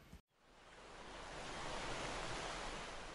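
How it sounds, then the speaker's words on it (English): Ocean waves swish in a steady, full wash of surf that swells up after a brief cut and rolls on evenly, with no voices. "the waves swish"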